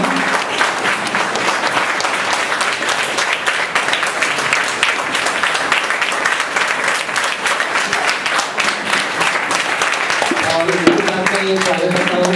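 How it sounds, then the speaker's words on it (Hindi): A large audience applauds loudly and steadily to welcome a speaker at an event, the dense clapping running the whole time with a few voices rising near the end. "जोरदार तालियों से उनका स्वागत करेंगे।"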